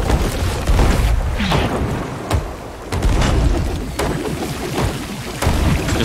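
In a pirate ship game with a cannon rowboat crew, heavy cannon shots boom repeatedly over a rumbling, rain-like ocean and wind ambience, each blast loud and resonant.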